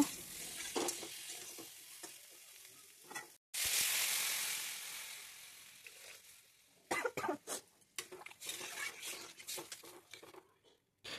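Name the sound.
stirring spice masala in a pan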